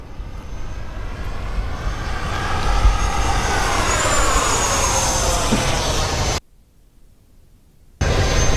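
A Freewing Eurofighter Typhoon 90mm electric ducted-fan RC jet roars past on its maiden flight, a loud steady whooshing whine that sweeps in pitch as it passes, then a sudden cut of near silence before the roar resumes.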